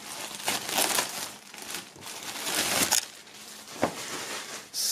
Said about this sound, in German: Nachdem hier diverse Sachen noch in Folie sind, nicht nur die Comics, sondern auch der Grinder und das Shirt, werden wir diese mal aus der Folie holen.